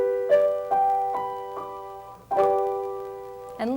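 A piano plays the 5 chord in a repeated pattern of struck notes, several clear attacks decaying into one another, ending with a fuller chord near the end.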